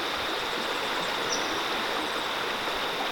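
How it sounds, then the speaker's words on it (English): A river flows through the Australian bush at the Jumaresk River, a steady, even rush of water filling the whole stretch with no voices. "River flowing through here."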